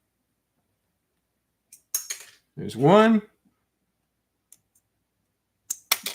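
Small scissors pry stuck LEGO tiles off a plastic brick, giving a few sharp, brief clicks separated by silence, with a short spoken phrase in between.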